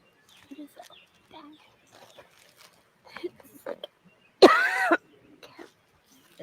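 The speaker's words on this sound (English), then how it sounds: "Uh-oh, she got the cough going on." A woman coughs in one loud, harsh burst partway through, set among quiet scattered talk and small background noises during a live stream.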